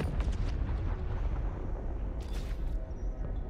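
A weapon firing in the video game Borderlands 3, heard as a deep rumbling boom with a brief hissing burst partway through over dense low-end game noise, with no talking.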